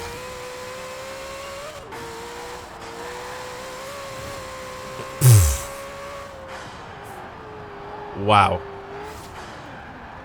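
A steady engine drone from a twin-turbo Shelby 1000 in Forza Horizon 4 runs throughout with a faint voice over it, broken by two sharp bursts of whooshing noise like turbo blow-off.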